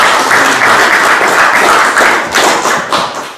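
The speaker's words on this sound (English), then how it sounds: "A golf clap for Carmichael" A small group gives a soft, polite golf clap for Carmichael, a few seconds of close, light patter clapping that tapers off at the end.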